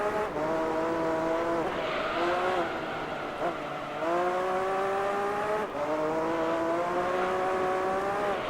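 A car drifting in Gran Turismo 3 gives a strained, high engine drone that rises and falls in three runs, with faint tire squeal under the revving.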